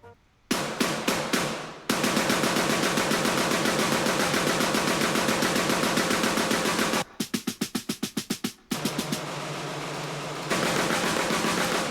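Loud triggered snare hits fire in rapid machine-gun-like rolls, broken by a short pause and a burst of slower, evenly spaced strikes before the fast hits resume.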